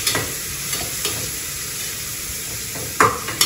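Chopped white spring onions fry lightly in a pan, with a steady soft sizzle and a few stirring scrapes and clinks of a utensil against the pan near the end.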